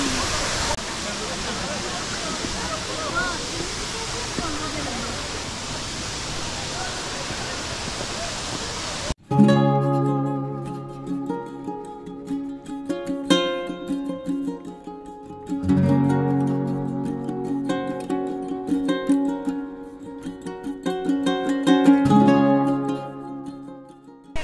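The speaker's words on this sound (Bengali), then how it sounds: "এই হচ্ছে ক্রাংসুরি ওয়াটারফলের ভিউ" Krangshuri waterfall in Meghalaya pours with a dense, steady rushing roar for about nine seconds, then cuts abruptly to loud instrumental music that fills the rest.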